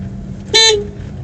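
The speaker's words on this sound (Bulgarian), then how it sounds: "Пробвах клаксона." A car horn gives a single short, loud toot, close by and brief, against a quiet background hum.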